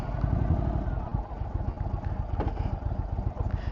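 An Indian Chieftain with the Thunderstroke 116 V-twin idles close by, its exhaust putting out a steady low, lumpy rumble that runs without a break for a few seconds.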